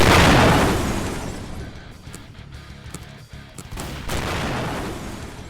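Loud bursts of gunfire and booming explosions in a heist video game, a heavy blast opening the clip followed by sharp shots and rolling rumble.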